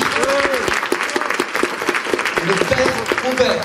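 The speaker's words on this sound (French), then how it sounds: "sous vos applaudissements, faites du bruit." Audience applause at a talk on living together in peace, loud sustained clapping from a crowd with occasional cheers and voices mixed into the steady patter.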